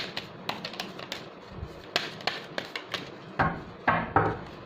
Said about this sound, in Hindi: this would be the last shuffle I will take out